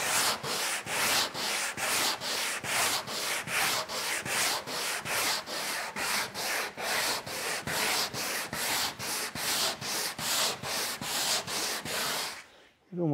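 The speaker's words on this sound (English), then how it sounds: "So I'm going to finish sanding the port side with a longboard" Port side of a boat hull's fairing compound sanded with a longboard, giving rapid regular back-and-forth rasping strokes, close and loud, about two strokes a second, steady until it stops abruptly near the end.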